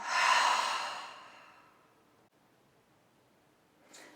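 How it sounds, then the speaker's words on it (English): One long, breathy exhale sounds close up during a yoga session, loud at first then fading slowly into quiet, followed by a faint short intake of air. "Big breath in. Long breath out."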